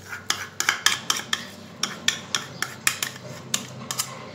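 Dough being stirred into yeast for homemade Upper Egyptian booza, heard as a steady run of sharp scraping clinks of a utensil against a bowl, roughly two to three strokes per second, close and alone.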